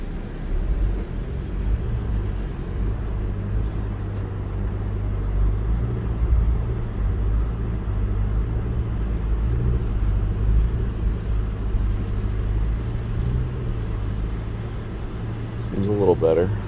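A 2022 Toyota RAV4 Hybrid in sport mode drives across beach sand at the Oceano Dunes, its steady low engine and road drone rumbling nonstop with the occasional faint knock, while voices seem to talk over it.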